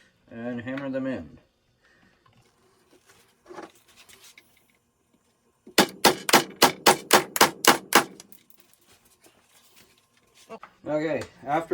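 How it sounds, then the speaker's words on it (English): A rapid series of about nine sharp hammer strikes rings out close by, driving T-nuts into wood for a snowboard plate, with a person speaking before and after. "now we're going to get our hammer and hammer them in"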